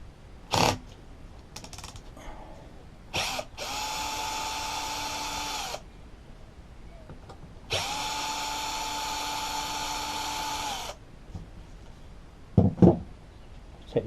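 A power driver fitted with a T25 bit whines in two steady bursts of a few seconds each while backing screws out of a Ryobi leaf blower, with short clicks and taps of handling before, between and after.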